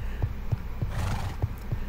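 A horse neighs at the stables in the video game Minecraft, giving a short whinny over a run of soft, evenly spaced hoof clip-clops, close and clear with no talking.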